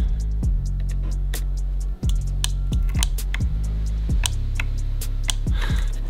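A seized heater fan motor from a VW T3 clicks as power is applied, a sharp tick roughly every half second to second with low humming thumps, the motor straining but never spinning up.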